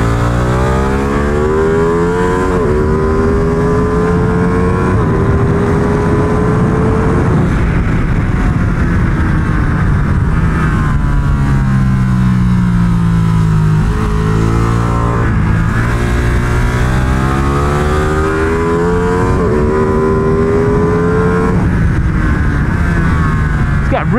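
An Italian sport motorcycle, a Ducati Panigale V2 or MV Agusta F3 800 RC superbike, roars close and steady while ridden, its engine pitch rising through the revs and dropping at each gear change, with a rider's voice now and then.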